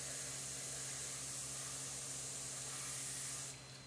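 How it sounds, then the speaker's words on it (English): An airbrush sprays paint onto cardboard in a continuous close, soft hiss that runs steadily for a few seconds before easing off at the end. "spraying"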